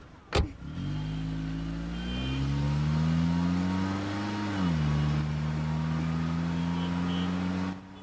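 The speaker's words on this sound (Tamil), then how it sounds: "டிரைவர் வண்டி எடுப்பா." Car engine starting and pulling away nearby, a loud steady hum that rises in pitch as the car gathers speed, then holds level before cutting off.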